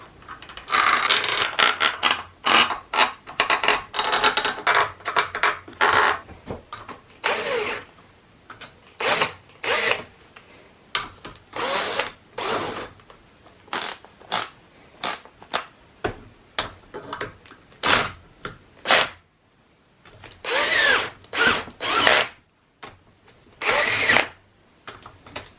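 A power drill on its gentlest setting drives a handful of same-length bolts into a Troy-Bilt mower: a close, steady run of short whirring bursts separated by brief pauses, with no talking.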